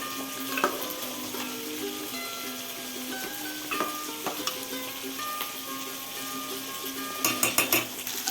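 Spice paste sizzles and fries in a pan for khichuri, a steady close hiss with occasional stirring scrapes and a few louder clatters near the end.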